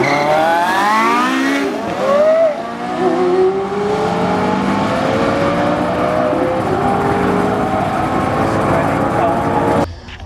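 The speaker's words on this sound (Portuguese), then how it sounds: "O 918 Spider sumiu no horizonte bem antes do Carreira GT." A Porsche 918 Spider and a Carrera GT race past, their engines rising and falling in pitch as they accelerate, loud and sustained, with a voice talking over the roar.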